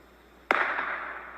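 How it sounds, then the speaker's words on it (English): A single sharp gunshot cracks out in a forest, followed by a long, loud echo that rolls away and slowly decays through the trees. "the sounds of gunshots can be heard echoing from the forest"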